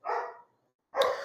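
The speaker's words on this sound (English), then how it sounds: "Sorry about the noise in the background. It's my dog." A dog barks twice in a home background, with the two barks about a second apart. Both are moderately quiet and slightly distant, with silence in between and no speech.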